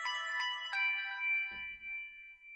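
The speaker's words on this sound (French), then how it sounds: "Ce que vous venez d'entendre là, c'est le feu de signalisation à ma fenêtre." An audible pedestrian crossing signal at a traffic light, heard from a window: a few soft electronic chime tones followed by a sustained beeping tone, faint and at a distance, with a low thump of street noise.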